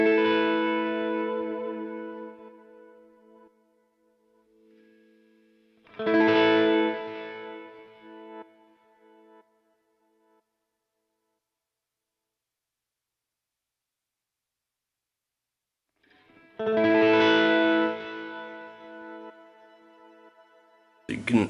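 A few sparse guitar chords from a Line 6 Helix modeler ring out with a soft, swelling octave-up synth-like pad sustaining behind them, separated by stretches of near silence.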